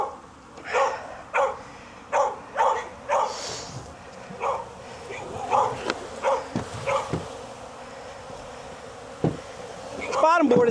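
Honeybees buzzing around a hive's bottom board during a colony relocation, a series of short, near buzzes in uneven pulses over steady background hum, with a dog whining faintly at times.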